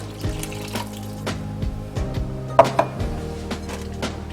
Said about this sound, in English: Add the water that you've mixed with the yeast.